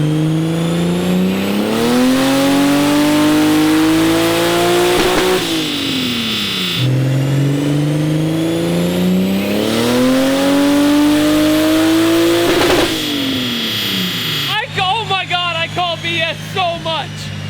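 A 2JZ-powered Nissan 240SX straining on a dyno, its engine climbing in two long rising pulls that peak and then drop as the throttle lifts, loud and close, followed by rapid burbling pops and crackles at the end.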